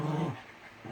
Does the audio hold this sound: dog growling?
yes